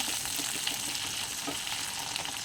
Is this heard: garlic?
yes